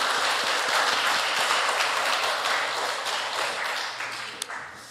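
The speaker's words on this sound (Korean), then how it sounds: "우리 격려와 영광의 박수 한번 합시다." A church congregation applauds during a Sunday service, a dense, even wash of clapping that holds steady and then tapers off toward the end.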